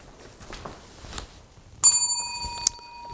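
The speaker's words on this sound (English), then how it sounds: "I'm gonna ring the bell." A bell in an abandoned school rings out with one sharp, loud strike and a sustained metallic ring, followed by a second brief clang, after a few quiet knocks and shuffles.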